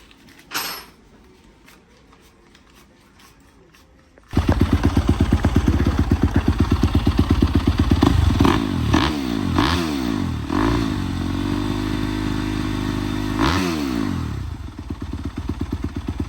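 A Kawasaki KX65 dirt bike engine starts up with a sharp jump to loud, steady running, then revs up and down in repeated sweeping bursts, close and continuous.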